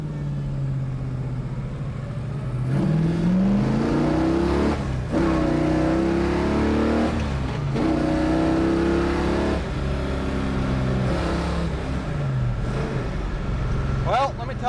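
A 1967 Chevrolet Chevelle SS engine pulls hard through its gears, its loud, close exhaust rising in pitch, dropping at each shift and climbing again through third, with a voice talking over the roar.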